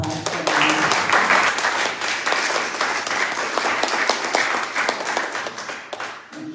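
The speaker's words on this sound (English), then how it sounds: "One more applause for them." Sustained audience applause at a remembrance service, dense and steady for several seconds before thinning out near the end.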